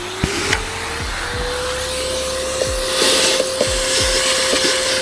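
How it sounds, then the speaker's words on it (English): A vacuum cleaner drones steadily while cleaning the airbox of a Seat Ibiza 6J 1.6 TDI, with several sharp knocks and scrapes as the nozzle bumps the plastic housing. "It's also a good idea to vacuum the airbox to remove any dust or debris."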